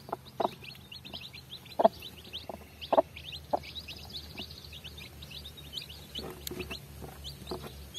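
A hen with fifteen newly hatched chicks makes soft, scattered clucks beside a small coop, while the chicks chirp thinly and constantly over a low background hum.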